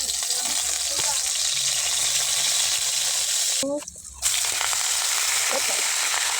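Garlic and onion frying in cooking oil, a steady broadband sizzle that carries on throughout, cut briefly by a short gap near the middle, with faint kitchen clatter.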